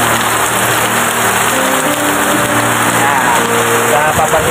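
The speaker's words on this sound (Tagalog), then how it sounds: "Lakas ng ulan guys" Heavy rain pours steadily and loudly onto a plastic sheet and the surrounding surfaces outside a small roadside store, a dense, unbroken hiss that covers everything.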